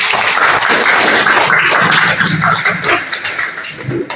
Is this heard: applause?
yes